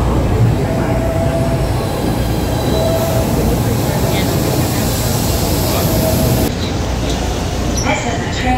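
A PATH train at the World Trade Center station in New York makes a steady, loud rumble with rail and wheel noise. Faint squeal tones cut through it, and voices are heard under the train.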